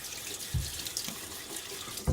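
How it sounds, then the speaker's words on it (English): Water from a running tap splashes onto a face at a bathroom sink before a shave, a steady faucet hiss broken by two or three louder close-up splashes, with no talk. "Throw a little water on my face."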